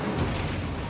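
A short, loud burst of fire as the Incendio spell is cast in Hogwarts Legacy, a booming, crackling whoosh lasting under a second.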